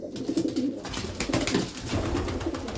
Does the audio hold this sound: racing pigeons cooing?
yes